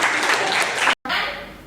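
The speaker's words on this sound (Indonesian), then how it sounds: "Oke, beri tepuk tangan" A classroom group claps briefly and closely, a dense burst that cuts off abruptly for a moment before a softer tail trails away.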